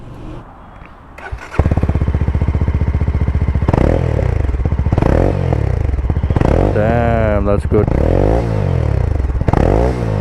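A 2021 BS6 Mahindra Mojo 300 motorcycle starts up and idles with its stock exhaust, then is blipped through several revs that rise and fall. The sound is loud and close, and someone speaks briefly over it.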